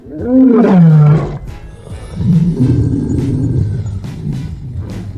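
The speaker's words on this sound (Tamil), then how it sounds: "அது மீண்டும் மீண்டும் கோபத்தால் கர்ச்சித்துக் கொண்டே இருந்தது" A cartoon lion trapped in a net roars angrily over and over, loud deep growling bellows close up, the first roar the strongest, then a long rumbling second roar.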